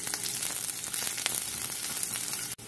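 Onion, garlic and methi seeds frying in a pan for a seim and potato curry, a steady close sizzle and crackle running without pause, cutting off abruptly near the end.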